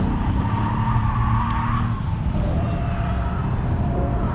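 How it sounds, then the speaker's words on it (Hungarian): A car engine roars loudly and steadily up close as the car accelerates, with a brief dip in pitch partway through that fits a shift from third to fourth gear, then it climbs again. "ott valószínűleg 3-ból 4-be kapcsol a kocsi"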